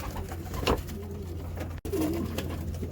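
A racing pigeon in a loft among new birds coos up close, with a few soft, throaty calls over a low steady hum in the background.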